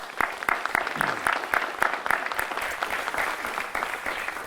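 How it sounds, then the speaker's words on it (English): An audience claps for honored valedictorians at a graduation-season ceremony, a moderately quiet room of applause with distinct individual claps popping through an uneven, pulsing wash. "Let's give them a round of applause."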